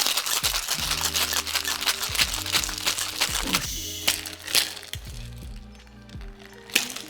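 Ice cubes rattle and crunch inside a cocktail shaker while a Mai Tai is mixed, a busy run of close, clattering knocks and crackles that thin out near the end.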